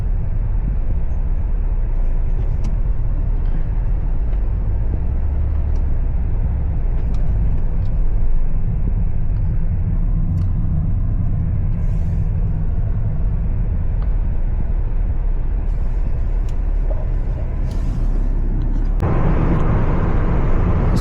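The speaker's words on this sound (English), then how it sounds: "here again we face some traffic" Road traffic in Riyadh heard from inside a moving car, a steady low engine and tyre rumble with passing vehicles throughout, no talk, with a brighter rush of noise in the last two seconds.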